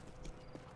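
Faint, quick hoof clip-clops from a horse, a few close taps over a low background hum.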